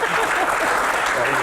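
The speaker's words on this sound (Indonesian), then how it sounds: "Tepuk tangan dulu." Audience applause at an indoor medical Q&A event, a steady wash of clapping from many hands that continues through the whole moment.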